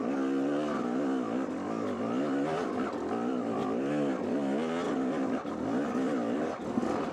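A Yamaha YZ250 dirt bike fitted with a big bore kit revs hard, its two-stroke engine rising and falling in pitch through repeated throttle blips, loud and close throughout.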